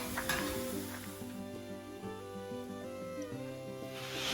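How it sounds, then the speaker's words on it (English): Oil heating in a pan set on a griddle before frying striped bass, a steady close sizzle with occasional light metallic clinks of utensils against the pan. "Looks like this oil's heating up"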